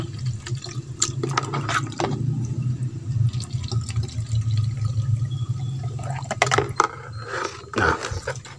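Fermentation solution is poured into goat manure: a continuous liquid splash and trickle with some clattering handling noises, close and clear.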